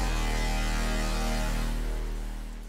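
A hardstyle synth lead and sub bassline made in FL Studio play together without a kick drum, producing a dense sustained tone with deep steady low end that fades slightly at the end.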